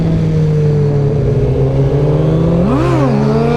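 Engine revving under more throttle, a loud steady drone with a sharp rise and fall in pitch near the end of a short burst.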